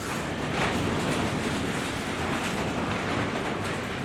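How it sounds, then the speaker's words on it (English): Strong wind blows outside a garage in a continuous broad rushing roar, steady and unbroken for the whole stretch, with no voices. "I don't know if you guys can hear the wind blowing out there, but it's crazy today"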